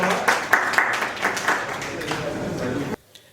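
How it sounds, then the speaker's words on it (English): At a business workshop in Accra, an audience gives a short round of applause: brisk clapping from a room full of people that fades slightly and then stops abruptly, leaving near silence. "Round of applause for her."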